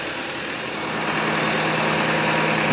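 A tractor engine idling at an abandoned property, a steady, loud, rough rumble that holds constant throughout with no talk.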